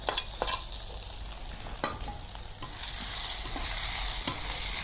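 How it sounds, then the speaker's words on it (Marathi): Finely chopped onion frying for zunka over a wood-fired chulha, a steady close sizzle with scattered clicks of stirring that thickens and grows louder toward the end, no voices. "कांदा छान बारीक चिरून घ्यायचा आणि लालसर होईपर्यंत भाजायचा कांदा"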